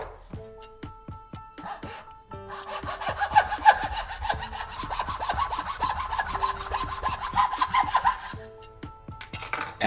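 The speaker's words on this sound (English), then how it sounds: "The wooden rod seems a bit long, so I'll mark it and cut it shorter" A hand saw cuts a cylindrical wooden rod in steady back-and-forth strokes, close and fairly loud, after a few light taps, with a slight faint hum beneath and no talk.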